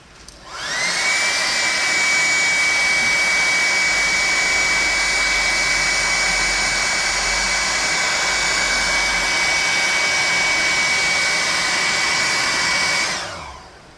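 A hot air blower runs steadily and loudly, a continuous high whining rush with a steady tone, switched on and off, drying glue on a foam worm model for a tabletop game.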